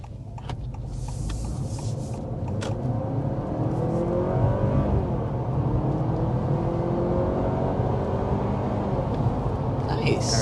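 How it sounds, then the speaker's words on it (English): A 2024 Honda Accord Sport hybrid with a 2-liter four-cylinder and dual electric motors accelerates, a steady rising engine and motor whir heard from inside the cabin, continuous and moderately loud. "the Accord has a 2-liter 4-cylinder with dual electric motors good for 204 horsepower"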